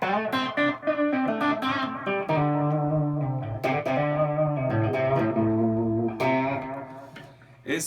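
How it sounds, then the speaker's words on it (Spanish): An electric guitar played through distortion, with notes swelling and fading under a volume pedal; sustained, loud chords and single notes ring with dynamic rises and drops, alone without talk. "Si tú estás tocando y metes un poco más de distorsión"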